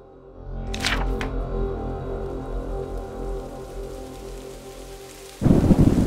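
Steady rain pours under a long, rolling rumble of thunder, then a heavy downpour suddenly surges louder near the end.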